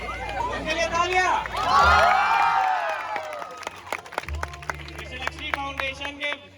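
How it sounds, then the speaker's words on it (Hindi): An audience at the opening of a school cheers and shouts, then claps in a quick scattered burst for volunteers, with children's voices mixed into the lively noise at moderate distance. "उनके लिए तालियां"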